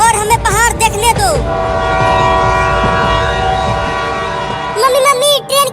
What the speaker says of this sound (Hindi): मम्मी, ट्रेन की सीटी की आवाज आ रही है